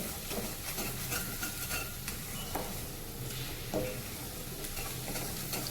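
Moong dal halwa is stirred in a pan while it cooks with milk, giving a close, continuous scraping and sizzling with occasional sharper clinks of the spoon against the pan, and no talking.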